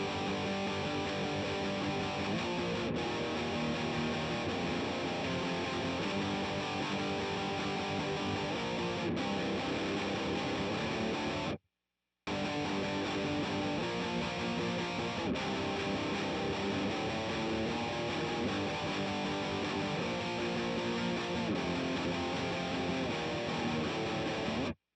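Electric guitar runs through delay and distortion pedals, including a ratty 1981 distortion, on a Vitoos pedal power supply, giving a dense, continuous, loud processed tone that cuts out briefly midway.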